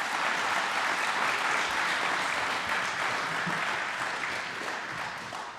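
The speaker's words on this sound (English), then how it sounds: "let's give all the candidates from District 2 a round of applause" A room full of people applauding candidates at a local District 2 election forum, dense sustained clapping that gradually tapers off toward the end.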